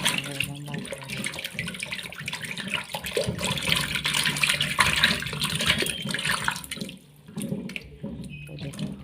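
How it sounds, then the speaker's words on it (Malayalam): Peeled potatoes being washed in water, with close running and splashing water and handling sounds in a sink, fairly loud and continuous before easing near the end. "അപ്പോൾ തൊലിയൊക്കെ കളഞ്ഞ് വെള്ളത്തിലൊന്ന് ജസ്റ്റ് ഒന്ന് കഴുകിയെടുക്കാം"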